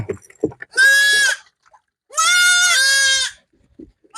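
A dwarf goat bleats loudly and close by during a bath, two long wavering cries separated by a short gap, with faint splashes and shuffling in between.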